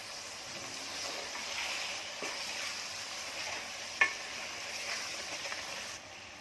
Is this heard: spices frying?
yes